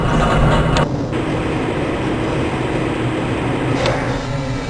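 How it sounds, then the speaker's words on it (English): A rail transit car in the Black Mesa facility of the video game Half-Life: Blue Shift gives a steady, loud mechanical rumble and hum while moving. Two faint clanks break the constant drone, with no voices. "This train is inbound from the Area 8 topside dormitories to the Central Transit Hub in Area 9"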